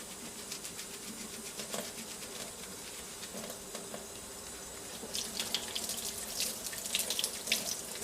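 A faucet runs steadily into a sink while makeup brushes are rinsed and scrubbed with liquid soap, a continuous close splashing that grows a little louder and busier toward the end.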